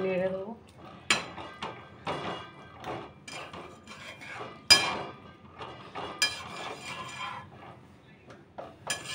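Fish and potato curry stirred in a pan with chopped coriander on top, giving scattered metallic scrapes and clinks of utensil against cookware over a low simmer, with a few sharper knocks.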